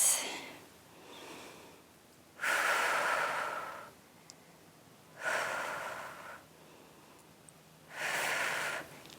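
Steady breathing while holding a Pilates side plank on a mat, with three long, loud exhalations at even intervals and softer inhales between them, close and with no talking.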